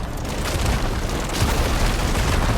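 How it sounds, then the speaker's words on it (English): A plasma explosion in the action game Horizon Forbidden West erupts as a dense, booming, crackling blast that rumbles continuously for a couple of seconds without any speech. "it triggers a plasma explosion."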